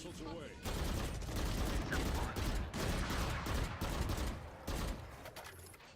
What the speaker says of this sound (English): All missiles away.